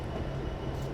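Union Pacific locomotives UP 7780 and 5256 pulling an auto rack train on Cajon Pass in Train Simulator 2020, a brief steady low rolling rumble with a faint engine drone.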